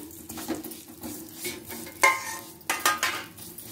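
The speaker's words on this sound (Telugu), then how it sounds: "సేమియాని కూడా ఎర్రగా వేయిస్తున్నానండి ఇప్పుడు" Vermicelli (semiya) sizzles as it is fried and stirred in a pan for semiya payasam, with a spoon scraping and clinking against the metal at irregular intervals.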